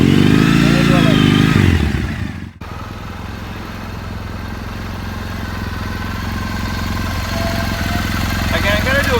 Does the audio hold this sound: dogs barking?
no